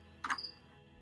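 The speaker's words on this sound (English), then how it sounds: "There were actual cricket noises." A single brief cricket-like chirp close by, one short bright burst standing out over quiet background hum.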